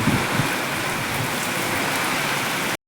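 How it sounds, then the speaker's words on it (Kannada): Heavy rain falls hard outdoors during a power cut in a windy storm, a dense, constant roar of drops hitting the ground that cuts off abruptly near the end. "ಮಳೆ ಅಂತೂ ಜೋರಾಗಿ ಬರ್ತೈತೆ."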